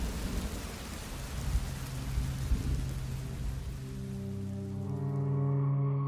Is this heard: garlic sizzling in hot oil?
no